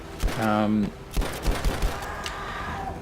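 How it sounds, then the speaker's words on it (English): Gunfire in the video game Battlefield 5 running at ultra settings with ray tracing, heard as several sharp shots and a short burst scattered across a few seconds, with a tonal game sound partway through and a voice talking over it. "Where are they shooting from?"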